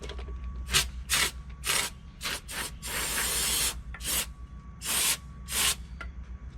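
FastCoat DIY spray foam insulation sprayed from a can in short bursts: a series of sharp hisses, one longer sustained spray in the middle, close and loud with brief gaps between.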